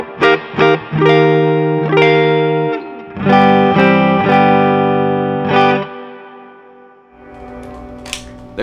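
A Yamaha Revstar electric guitar plays through a 2-Rock Bloomfield drive pedal with a mildly driven, near-clean tone: sustained chords are strummed and left to ring, then a final chord fades into quiet, followed by a short high pick scrape.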